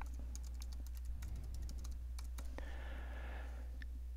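Typing on a computer keyboard while entering a name: a steady run of quick, close key clicks with uneven spacing over a low constant hum, and no voices.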